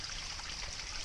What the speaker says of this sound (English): the running water. Now, looking at this stuff, it's clear, it smells good, it's constantly flowing.